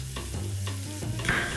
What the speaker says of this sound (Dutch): hij met een strijkijzer ook gewoon een tosti kan bakken